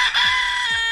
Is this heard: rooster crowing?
yes